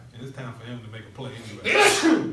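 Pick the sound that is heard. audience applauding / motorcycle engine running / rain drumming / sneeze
sneeze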